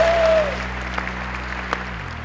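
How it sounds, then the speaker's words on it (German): Audience applause at an award ceremony for Entrepreneur of the Year, a steady wash of clapping at moderate level with a sustained musical tone underneath, tapering off near the end. "Einen großen Applaus noch einmal"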